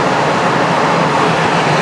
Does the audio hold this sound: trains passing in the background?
yes